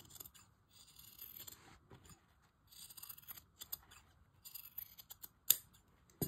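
Regular scissors snip through fabric while a sewing pattern piece is cut out. The crisp, close snips and scrapes come in quick irregular runs with short pauses between them, and no talking.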